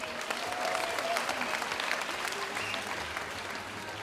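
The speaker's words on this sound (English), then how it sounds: "One more round of applause for Tyler Barnes." Steady audience applause for a pageant contestant at the Mr BG 2018 event, a dense wash of clapping that holds at an even level for the whole stretch with a faint murmur of voices mixed in.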